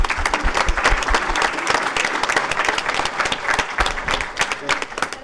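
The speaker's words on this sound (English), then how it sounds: "Let's give him a round of applause" An audience at a CISO panel event gives a round of applause, dense and lively clapping from a crowd, loud and close, with some voices mixed in beneath.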